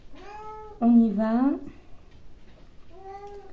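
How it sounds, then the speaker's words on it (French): A house cat meows three times, with a louder, drawn-out middle call, while a person speaks a couple of words in between. "Excusez-moi pour mon chat."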